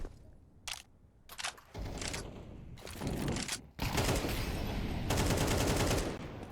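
Rapid gunfire rattles in a Counter-Strike match on the Mirage map, bursts of sharp automatic shots broken by brief gaps, then a long sustained volley, close and loud.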